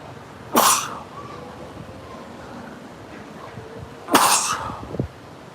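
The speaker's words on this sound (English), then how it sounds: "I hate sneezing on the air." Two sharp sneezes about three seconds apart, close and loud, each a sudden burst over quiet background hiss.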